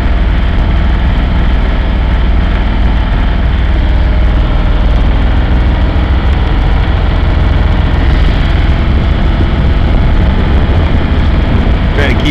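A boat's diesel engine runs steadily with a loud low rumble, its speed rising and sagging unevenly while under way, with water in the fuel.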